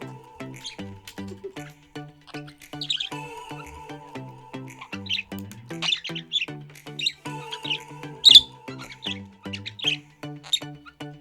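Small birds chirp and squawk in busy, overlapping calls while feeding on crispy straws scattered on a table, close by and fairly loud, with no talking.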